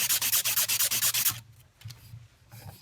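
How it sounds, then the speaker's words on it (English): Epoxy is scraped off the tip of a graphite golf shaft in a quick run of about ten rhythmic, close rasping strokes, followed by fainter, scattered scratching. "you're simply just going to start working on getting rid of that epoxy on there so the shaft is ready to go"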